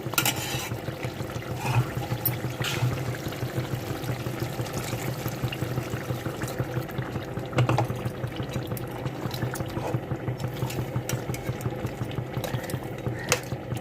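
Water is added to farm chicken fry cooking in a pan with raw spices, and a steady, fairly close bubbling and watery simmer continues, with a few brief clinks.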